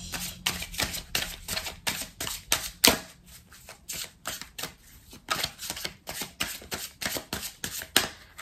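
A blue oracle card deck is shuffled and cut close up for a cross-spread reading, with repeated crisp riffling bursts about every half second, papery and bright, with no speech.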